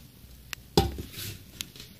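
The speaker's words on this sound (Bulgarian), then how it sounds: "Първо ни трябва тиган" A frying pan being taken out and handled in a home kitchen: one sharp metallic clank, a few lighter taps around it, then quiet, heard close with no speech.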